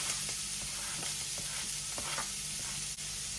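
Chopped onion sizzles in a hot pan of chorizo and poblano peppers while being stirred, a steady fry hiss broken by regular soft scraping strokes of the spoon.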